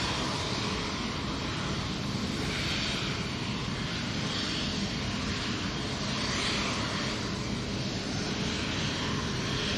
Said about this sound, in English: warming up the engine